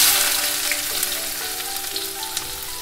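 Cumin seeds and onions sizzle in hot oil in a pan, a steady, close crackling fry with scattered pops, heard alone without talk.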